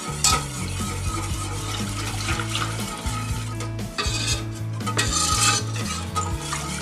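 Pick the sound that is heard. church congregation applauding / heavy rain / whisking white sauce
whisking white sauce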